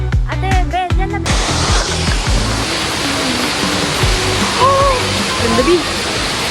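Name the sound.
waterfall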